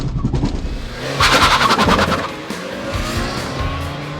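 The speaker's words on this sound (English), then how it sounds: "Ooh, that's some tire spin." Suzuki Liana launched hard from high revs with the clutch dropped, engine roaring close and a burst of tire spin squealing through the middle before the revs settle into a steady drone.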